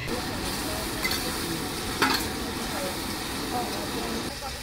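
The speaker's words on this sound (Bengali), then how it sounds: "এখানে এখন চিকেন রান্না হচ্ছে" Chicken cooking in a pan as it is stirred and fried, with a steady sizzle and scraping stirs under a continuous busy kitchen background, plus a few louder clatters and voices nearby.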